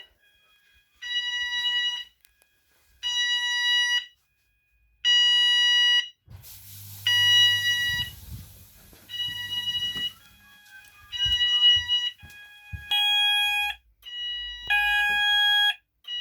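Loop sounders of a newly installed fire alarm system sound during a test. The loud, close electronic tones come in regular bursts about a second long with gaps between them. Low thumps and handling noise rise underneath midway through.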